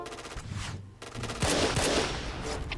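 K2C rifle firing in Point Blank, with quick bursts of automatic shots broken by a short pause and then sharper cracks. The shots are loud and close, and there is no talk.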